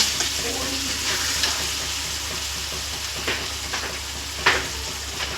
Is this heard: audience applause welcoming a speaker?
no